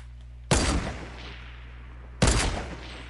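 Two sharp, loud gunshot blasts from a Fortnite squads match, spaced about two seconds apart, each with a brief decaying tail over low background hum.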